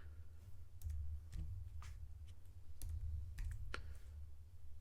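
Keys tapped on a computer keyboard while entering text in Apple Motion 5, a sparse run of separate clicks over a steady low hum, close and fairly quiet.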